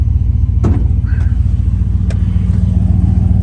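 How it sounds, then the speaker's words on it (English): A 440 V8 in a 1973 Dodge Polara ex-police car idles with a deep, loping rumble, loud and close, with a couple of faint clicks over it. "Listen to that 440 per."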